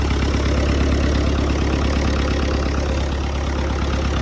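An Oliver 1355 tractor engine idles roughly and unevenly, a steady loud low rumble with a rhythmic knocking pulse running through the whole stretch, close by with no talking.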